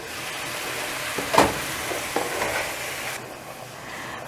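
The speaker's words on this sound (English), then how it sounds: "I'm continuing to cook this just with that little bit of onion in there" Ground beef and a little onion fry in a pan, giving a steady loud sizzle with a few stirring scrapes, the hiss easing slightly toward the end.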